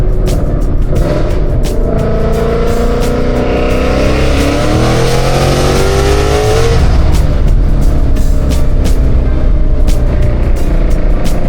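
A 900hp Ford Mustang Boss 302 drag-style build with a spooled rear accelerates hard and loud, its engine roar climbing steadily in pitch for several seconds before shifting and pulling again, with brief tire chirp and no talk.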